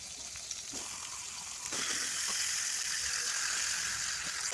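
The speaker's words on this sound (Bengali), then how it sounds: "ইলিশ মাছের মাথাগুলো ভেজে নেব" Hilsa fish heads frying in hot oil, a continuous bright sizzle that grows louder partway through, with a few light scrapes and no talking.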